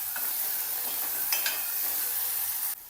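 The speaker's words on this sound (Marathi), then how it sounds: "बटाट्याला पण छान भाजून घ्यायचं मऊ पडेपर्यंत" Potatoes sautéed in a pan and stirred with salt for a fasting dish, a steady close sizzle with scraping stir strokes, no voices.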